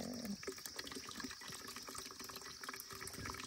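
Water pours into a bucket at a spot in a forest, a faint, steady rushing and splashing that runs unbroken for a few seconds with no voices.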